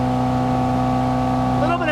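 A 1997 Bayliner 1950 Capri Classic bowrider's four-cylinder engine drones steadily near 4,000 RPM at 23 knots, loud and close, with a constant low hum and water noise underneath.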